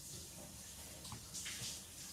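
Hot water runs steadily from a household tap, a continuous hissing gush that swells briefly midway, heard indoors with no talk.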